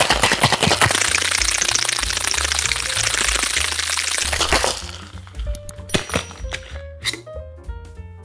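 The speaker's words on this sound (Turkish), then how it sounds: "Sonra shaker'ımı şey buzlayıp normal shake yapıyorum." A cocktail shaker full of ice rattles hard and fast for about four seconds, loud and close, then stops, and loose ice clinks and settles a few times.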